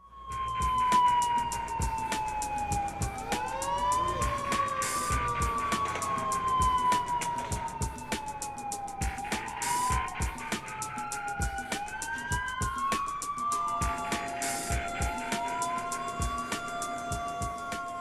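Emergency siren from a fire truck, wailing up and down in long repeated sweeps, steady and fairly loud, with traffic rumble beneath and no speech.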